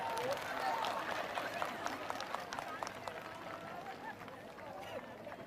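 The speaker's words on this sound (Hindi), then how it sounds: "जोरदार ताली बजाकर प्लीज।" Audience at a church ministry service breaking into sustained clapping, a steady rattle of many hands heard faintly from a distance with voices mixed in.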